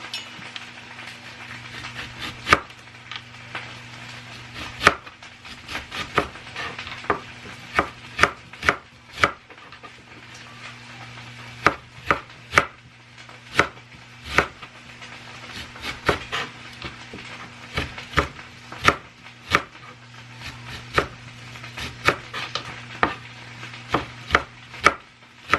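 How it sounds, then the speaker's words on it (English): Knife slicing through onion on a cutting board, a long run of sharp, close taps in irregular bursts with short pauses, over a steady low hum. "So now I'm going to slice up some onion."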